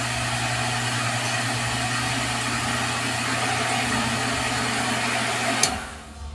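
An electric water pump motor hums steadily and loudly close by, then cuts off near the end with a brief click as the whine drops away.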